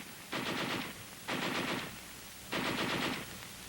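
Heavy machine gun firing in three separate bursts, each roughly half a second to a second long, loud rapid rattling with pauses between, from a World War II US Army training film.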